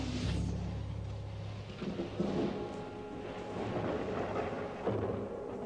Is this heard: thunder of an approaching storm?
yes